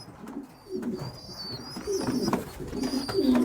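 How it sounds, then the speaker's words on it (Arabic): Young Maltese pigeons coo in low, repeated throaty bursts close by, mixed with faint handling noise and a few high chirps, without talk. "فانا دلوقتي الحمام الملطي بمسكه"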